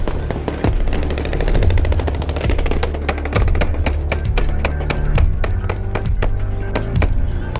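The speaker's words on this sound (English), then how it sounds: "the officers were able to quickly fire back, shooting with assault rifles and using their vehicles for cover" Dense, rapid bursts of assault rifle fire crack out continuously during a cartel ambush on Mexican police in Chihuahua, loud and close, with overlapping shots from several weapons.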